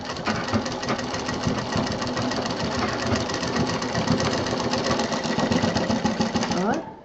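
A sewing machine stitches a sling bag in a steady, fast, loud and close rattling run that stops abruptly near the end, with a voice talking faintly beneath.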